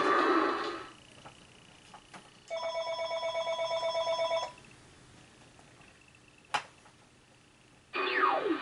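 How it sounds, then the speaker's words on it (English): A telephone rings with a rapid trilling bell burst lasting about two seconds, set between other brief electronic tones and a sharp click, during the PS1 game Crash Bandicoot 3: Warped. "Phone's ringing."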